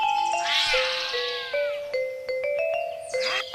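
A baby lion cub calls with high, meow-like mewing cries over a few seconds, close and moderately loud, alongside steady ringing tones and no speech.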